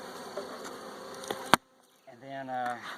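Honey bees buzz around an opened hive during a feeding check, a dense steady drone close by, broken by a sharp knock, then a brief near-silence before a single bee hums loudly right beside the listener.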